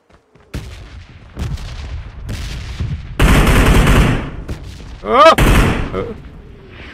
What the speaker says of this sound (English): Who's shooting that?